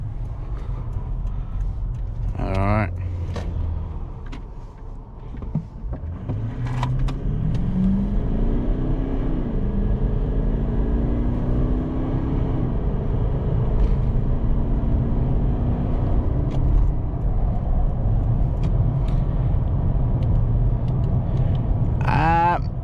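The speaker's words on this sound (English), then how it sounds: "we're gonna test out the acceleration over here to 100 kilometers" A 2010 Toyota Land Cruiser GXL 200 with a twin-turbo V8 diesel accelerates hard on the road, a steady engine roar rising through the gears with continuous road and tyre noise inside the cabin.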